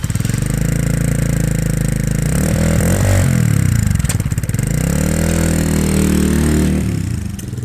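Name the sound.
Herald Brat 125 motorcycle engine with GP style exhaust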